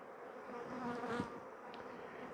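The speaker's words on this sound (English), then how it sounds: "overnight, what's happened is the bees have come up from the bottom colony into here" Honey bees buzzing inside a beehive where they have moved up from the lower colony to tend brood, a soft, steady hum close by with no talking.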